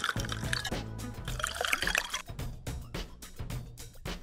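Water poured into rows of paper cups covering a floor, a busy liquid splashing and trickling sound with repeated short pours and some background noise.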